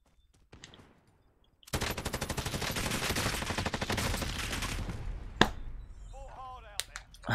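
Light machine gun fire in a Call of Duty multiplayer match: a long, loud, rapid sustained burst of automatic shots lasting several seconds, followed by a few scattered impacts and a brief faint voice.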